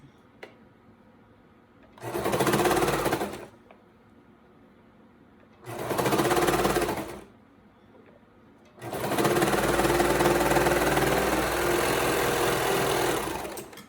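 A serger stitches through stretchy legging fabric in three loud whirring bursts, two short runs and then a longer steady one, separated by brief pauses, close up with no talking.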